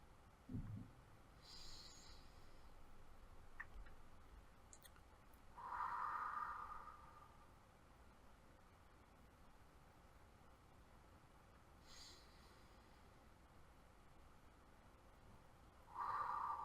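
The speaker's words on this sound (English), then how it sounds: "we're going to go ahead and take our 3 deep breaths now" Slow, deep breaths during a meditation, two or three long airy exhalations spaced several seconds apart, faint and close against a quiet background hiss, with no talking.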